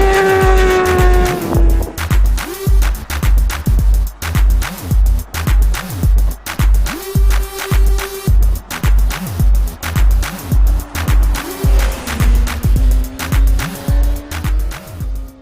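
Onboard sound of a 2017 Yamaha R6 sport motorcycle lapping the Almeria race circuit: a loud high-revving engine climbing through the gears, repeated upshifts and downshifts with rising and falling pitch, continuous and close with no talking.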